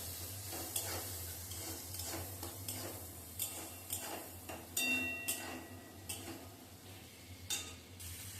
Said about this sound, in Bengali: নুন আর হলুদ দেওয়ার পর পেঁয়াজ এবং টমেটোটাকে আবারও ভেজে নিতে হবে ভালো করে।